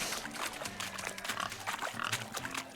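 Pigs oinking and grunting in The Witcher 3: Hearts of Stone during a village pig-chasing race, several animals snorting in quick irregular bursts amid a busy crowd murmur.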